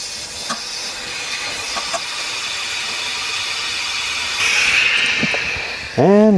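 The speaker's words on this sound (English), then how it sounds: "I'm going to go ahead and put air back in the tire" Steady air hissing as a string-plugged flat tire is refilled, a broad continuous hiss that swells louder partway through, with a few light clicks and a brief squeaky tonal sound near the end.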